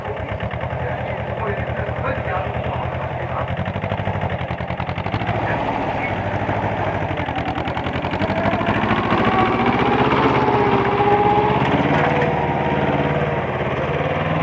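A Mahindra mini 245 DI 4x4 tractor runs with a steady, loud diesel engine drone throughout, rising slightly as the throttle opens partway through, with voices talking over it.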